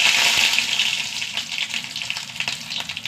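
Mustard seeds and dried red chillies sizzle and crackle in hot coconut oil in a pan. The hiss is loud, close and continuous, with no talking over it.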